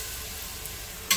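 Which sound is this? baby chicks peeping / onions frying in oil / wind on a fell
onions frying in oil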